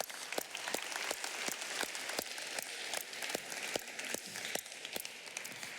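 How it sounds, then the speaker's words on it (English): A conference audience at a global health meeting claps in a quiet, sparse applause of distinct hand claps spread at fairly even intervals throughout. "Big applause."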